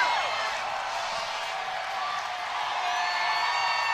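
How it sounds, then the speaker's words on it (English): Steady roar of crowd applause and cheering for the Stanley Cup at the Carolina Hurricanes championship celebration, a dense, continuous wash of sound from a large gathering that holds at an even level throughout. "That sound you hear is the applause for the Stanley Cup."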